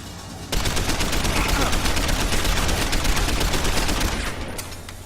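Combat rifle firing in Deus Ex: Human Revolution, a dense rapid stream of close, loud shots starting abruptly and rattling continuously for about four seconds before cutting off, with no talk over the firing.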